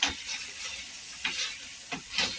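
Green chili thecha with salt being mixed on a hot griddle, a soft sizzle with a few quick scraping strokes close by, brief and fairly quiet.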